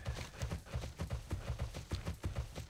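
Hooves of a riding mount clip-clopping in World of Warcraft Classic, an even, galloping rhythm of soft thuds repeating about four times a second, close and steady with no talk.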